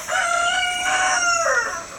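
A single rooster crows nearby, a long harmonic cock-a-doodle-doo call that rises and then falls off at the end.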